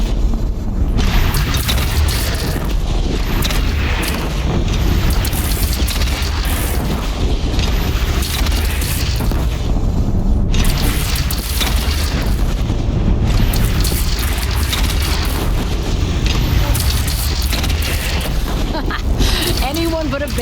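Cannon fire in the video game Horizon Zero Dawn, with repeated deep booms and blasts over a dense, constant battle din of clanking mechanisms and shouting voices throughout.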